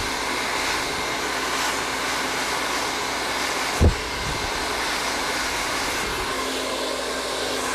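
A handheld blow dryer runs steadily at high heat while drying hair, a constant loud whooshing roar throughout with one brief low thump near the middle and no talking.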